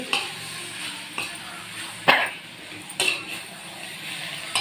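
Drumstick greens and cowpeas stirred in a frying pan for murunga keerai poriyal: a continuous sizzle with regular scraping strokes of a spoon against the pan about once a second, close, no talk.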